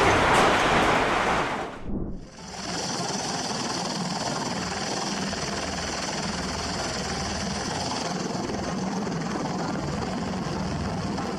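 Helicopter blades thudding over the runway at Cambridge Airport, a loud steady roar that holds without a break after a short dip near the start.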